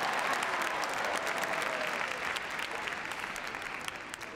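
A large crowd applauds after a heelwork-to-music freestyle dog routine at an international competition at Crufts, dense sustained clapping filling the hall and easing slightly toward the end.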